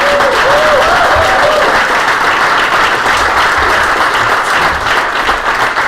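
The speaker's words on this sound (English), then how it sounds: "Let's give our head of Nestle a great round of applause" A room full of people gives a loud, sustained round of applause for the head of Nestle USA at the Arlington headquarters announcement, a dense steady wash of clapping that holds throughout.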